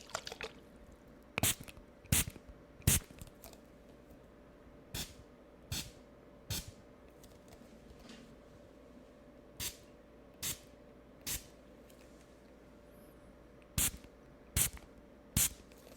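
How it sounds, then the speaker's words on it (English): Water spritzed from a spray bottle into a small cloth, a series of short, crisp hissing bursts spaced irregularly, some in quick pairs, close and moderately loud against a quiet background. "So I'm just going to spray into this little cloth so I don't get water all over my computer."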